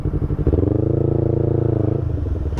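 Motorcycle engine close by in city traffic, a loud rapid pulsing putter that rises and holds steady for about two seconds before dropping back.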